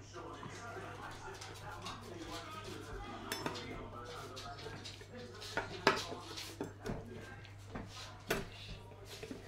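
Serving South African pap tert onto a plate with a knife in a home kitchen, with scattered clinks and scrapes of metal on crockery, some sharper knocks, under faint talk and a steady low hum.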